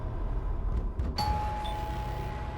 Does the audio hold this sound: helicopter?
no